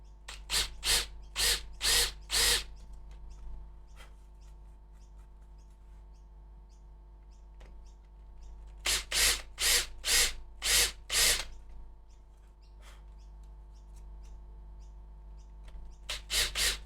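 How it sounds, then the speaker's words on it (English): A power drill bores into a guitar body in two clusters of short, loud whirring bursts separated by a quiet stretch, with a few light taps in between and a final burst at the end. "Drill away."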